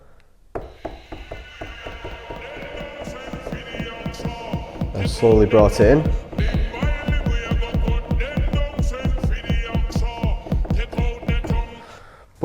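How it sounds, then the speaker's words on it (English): A DJ sampler channel runs through a filter reverb that starts high-filtered and gradually opens up, giving rhythmic pulsing beats and rising tonal layers that grow louder, with a brief spoken phrase near the start. "I used a filter reverb, and I started with a high filtered out reverb."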